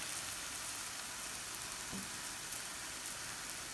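Four cracked eggs fry in an oiled pan for egg noodles, giving a steady, even hiss of sizzling that holds at a moderate level from start to finish, with no voices.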